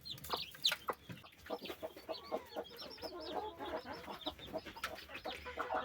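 A broody hen clucks to her chicks in a farmyard, with repeated soft calls mixed with brighter chirps and clucks from other fowl, fairly close and steady throughout.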